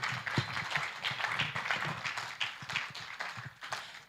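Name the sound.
audience applause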